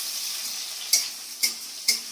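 Chopped onions sizzle in hot oil in a pan with a steady close hiss, broken by three sharp stirring knocks about half a second apart.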